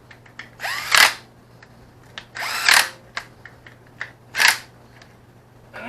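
A power tool snugging down the oil pump cover nuts while assembling the case of a 1641 engine, giving three short close whirring bursts with small clicks and handling noises in between.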